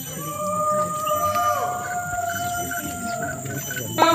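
A voice imitates the call used in Borneo to summon orangutans, a long, wavering whistle-like hoot that slides down in pitch, over faint background noise.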